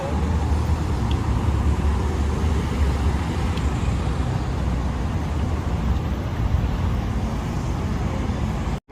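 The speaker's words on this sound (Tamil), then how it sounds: "விதவிதமாக நிறைய காரெல்லாம் போயிட்டு இருக்குது." Steady, loud roar of many cars streaming along a busy road in Dubai, a continuous dense traffic wash with no gaps, heard close by from the roadside while pedestrians wait at a red crossing signal.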